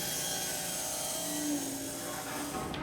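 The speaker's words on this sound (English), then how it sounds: "my plan is to rip it down on my table saw to fit inside of that cutout" A table saw rips a white oak board, a steady broadband whir that holds level for about three seconds, with a faint brief tonal rise in the middle as the blade works through the wood.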